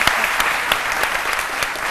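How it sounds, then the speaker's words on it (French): A studio audience on the French midday TV show C'Midi claps loudly for beach lifeguard guests, a thick, sustained burst of applause with a few sharper individual claps popping out. "On les applaudit très fort."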